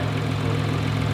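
A hybrid car's engine, working as a generator, runs at a steady idle, giving a constant low hum with a faint vibrating rumble and no changes in pace.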